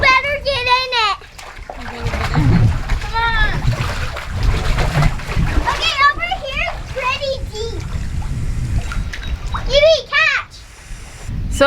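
Kids splash and play in a new 16 by 10 foot backyard swimming pool, bursts of water sloshing close by with excited children's voices and adult talk throughout.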